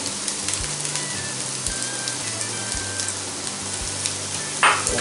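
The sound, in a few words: boneless chicken pieces added to the pan, frying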